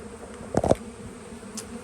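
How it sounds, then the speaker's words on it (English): Honey bees fly around a newly installed package hive, giving a soft steady buzz with a brief louder drone as one passes near, and no talking. "take a look at the bee traffic now"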